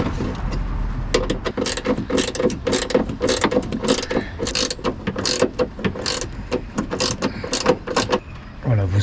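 Screw being tightened on the mounting plate of an Audi A1 8X reversing camera, a steady run of small rapid ratcheting clicks and mechanical ticks close by, continuing throughout with brief pauses.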